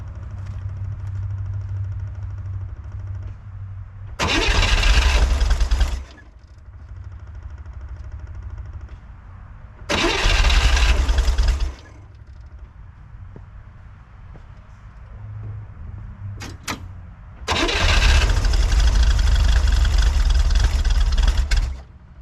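A 1963 Corvair engine with a fault that stalls on acceleration cranks and catches in three loud bursts of a few seconds each, separated by a quieter low steady hum.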